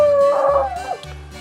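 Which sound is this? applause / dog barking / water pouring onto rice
dog barking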